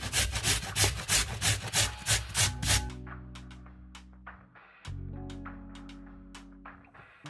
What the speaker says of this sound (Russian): Беру 4 картошки и одну луковицу. И натираю на средней терке.